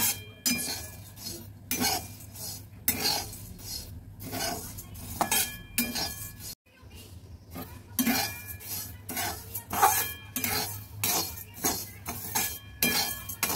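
Flattened rice (chire) dry-roasting without oil in a pan at home, stirred steadily with a spatula that scrapes and clinks against the metal in repeated strokes, close and fairly loud, with a low steady hum underneath and no talking.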